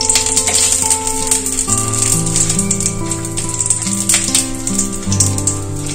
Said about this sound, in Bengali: গরম মশলাগুলো সব ভাজা হয়ে গেছে।